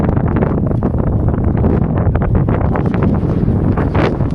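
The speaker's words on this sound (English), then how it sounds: "The windstorm is kicking up a lot of dust." A strong windstorm in the Arizona desert blasts and roars against the microphone in loud, continuous gusts with no letup.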